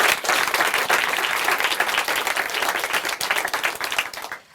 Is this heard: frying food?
no